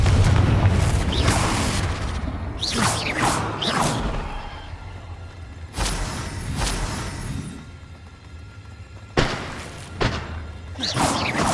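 Fiery Confringo spell blasts from a Hogwarts Legacy fight land as a string of loud booming thuds and whooshing bursts, several clustered near the start and more spaced through the rest, over a steady rumble of battle ambience.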